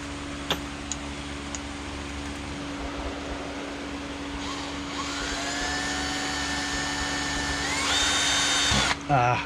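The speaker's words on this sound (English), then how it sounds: "so I need to drill out a pilot hole for this smaller one." A power drill whirs steadily for several seconds while drilling a pilot hole in wood, its pitch rising as it bites in, then stops abruptly; a faint hum and clicks sit underneath.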